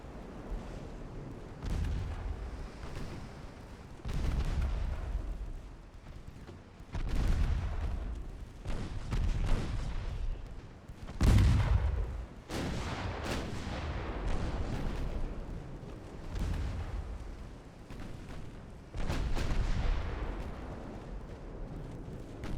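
Naval artillery from 1908-era battleship guns, including ten-inch and 7.5-inch guns, booms repeatedly in the game Ultimate Admiral: Dreadnoughts, deep heavy blasts at irregular intervals with rumbling echoes between them.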